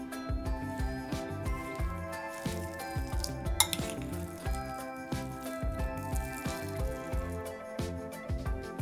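A utensil stirs a thick filling of cottage cheese, sour cream, shredded coconut and condensed milk in a bowl, giving a steady run of rhythmic scraping and clinking strokes over a low background hum.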